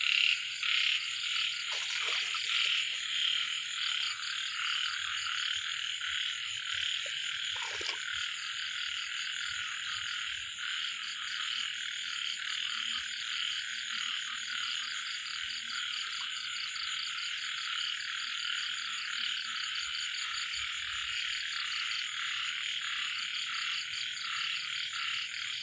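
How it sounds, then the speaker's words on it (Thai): Small frogs croak steadily at night behind a rural house, a dense, continuous chorus of rapid calls with crickets trilling alongside, fairly close and with no one speaking. "ยายนั้นพาเพื่อนๆมาชมมาฟังเสียงเขียดห้องยามคืนใส่"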